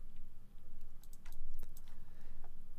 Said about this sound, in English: Let's go hold down V on the keyboard to bring one in.